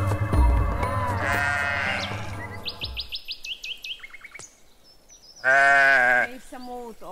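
A sheep bleats loudly near the end, a sustained harmonic call followed by a shorter one, after earlier mixed animal and bird calls with chirps and voices in a lakeside meadow.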